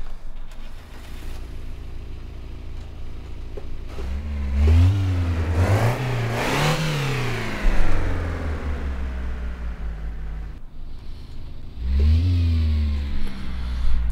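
Rally-style drift car in the City Car Driving game starting up, then revving in sharp bursts that climb and fall, a second rev burst near the end, loud and alone.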